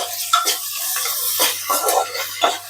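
Potato, peas and pigeon peas with ginger-chili-garlic paste roast in a pan for masala khichdi, soft sizzling with a spoon scraping and tapping the pan in short uneven strokes, close up.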